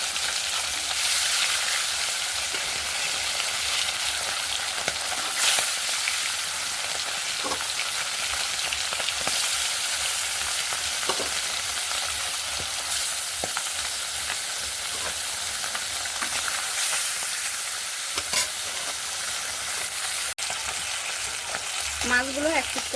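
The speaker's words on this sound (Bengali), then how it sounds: "কড়াই আর তেল মোটামুটি গরম হয়ে গেছে, এর মধ্যে দিয়ে দেবো নুন হলুদ মিশিয়ে রাখা মাছ।" Salt-and-turmeric-marinated fish frying in hot oil in a wok gives a steady, close sizzle that crackles and hisses continuously with no talking.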